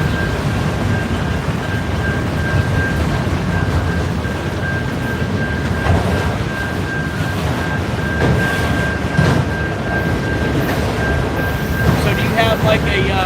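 Train rolling past a trackside live rail camera in Illinois Terminal territory, with a steady broadband rumble of cars and wheels filling the whole stretch alongside a sustained high tone, while people talk over it.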